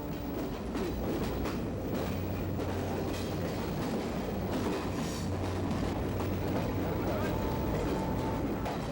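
A passenger train at Mughal Sarai station in India rolls along with a low, continuous rumble and faint rhythmic clatter, quiet and somewhat distant throughout.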